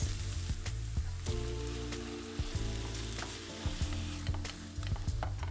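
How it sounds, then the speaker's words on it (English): Onion and minced meat sautéing in a pan as filling for Turkish börek, a steady close sizzle with irregular scraping and stirring knocks from a utensil running throughout, no voices. "It begins with sauteing the onion and then the mincemeat"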